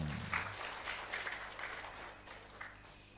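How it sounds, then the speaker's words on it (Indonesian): Audience at a talk gives faint, distant applause, a soft continuous patter of clapping that slowly tapers off. "Tepuk tangan dulu dong."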